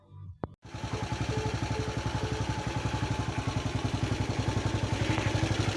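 Warmed-up Loncin 200 163FML single-cylinder motorcycle engine idling, preceded by a short clack, then a steady, even low thumping rhythm held at close range for several seconds.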